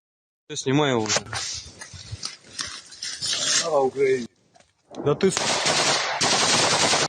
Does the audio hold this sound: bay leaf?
no